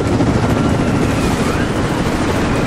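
Helicopter in the video game Rise of the Tomb Raider, a loud continuous rotor roar with a dense steady throb filling the whole stretch, no speech over it.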